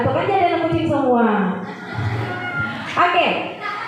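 Several children imitate a kitten's mewing together, a run of rising and falling high-pitched meows voiced one after another, close and loud, with a few short chuckles mixed in.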